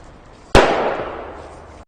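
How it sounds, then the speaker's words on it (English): A single loud explosive blast set off by USDA crews in Brackenridge Park, a sharp close bang followed by a long rolling echo that fades over about a second. "You got the USDA shooting explosives over here."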